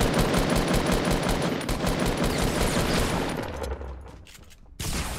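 Rapid automatic gunfire from a Fortnite match, a dense sustained fusillade of shots filling most of the clip before fading and thinning near the end, with a final burst returning.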